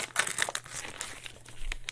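Christmas wrapping paper crinkles and rustles as it is unwrapped close by, a dense run of crisp crackles and crumples with no voices.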